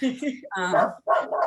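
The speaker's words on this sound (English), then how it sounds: "I'm sorry about my dog." A pet dog at home gives a few short barks and yips in quick succession, close and fairly loud, overlapping with speech.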